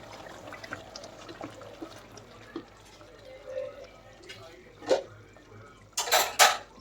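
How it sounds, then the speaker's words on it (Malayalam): Chicken curry stirred in a pot, a quiet scraping background broken by a few sharp metallic clinks of the spoon against the pot near the end. "ഒന്നുകൂടി ഇളക്കി കൊടുക്കാം"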